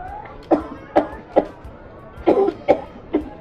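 Repeated harsh coughing, about six or seven separate bursts spaced roughly half a second apart, close and fairly loud, a few coming in quick pairs, from a person in a Nigerian drama scene.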